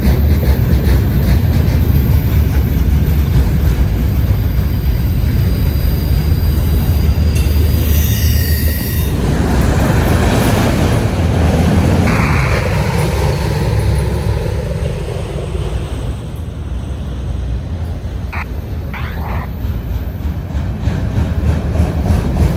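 A freight train carrying a couple of boxcars loaded with auto parts rolls past on a CSX line, a loud continuous rumble and clatter of wheels on rails, with a brief squeal partway through.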